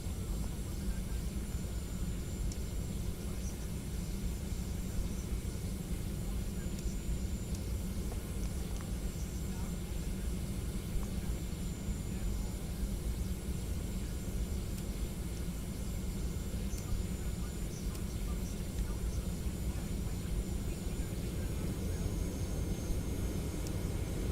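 Constant airplane engine drone in a flight video game, a steady broadband roar with a faint high whine that holds level throughout, with a voice occasionally speaking over it.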